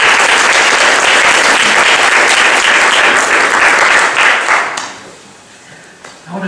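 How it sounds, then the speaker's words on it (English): Lecture audience breaks into loud, sustained applause from a full hall, dense clapping that fades away after about five seconds. "give him a round of applause."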